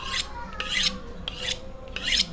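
Four rhythmic rasping strokes of a Jianfeng knife blade drawn across a sharpening stone, evenly spaced, close up and fairly quiet.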